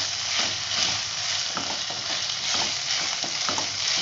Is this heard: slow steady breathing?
no